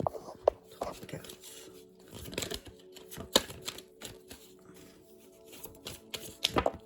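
Tarot cards are laid out in a triad of three for a full-moon reading in a forest, giving soft scattered taps, slides and rustles of card stock at close range with no talking.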